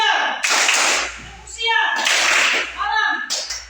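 Schoolchildren in a classroom clap together in short rhythmic bursts between chanted phrases, with a teacher's voice and the class's spoken responses filling the gaps between the sharp group claps.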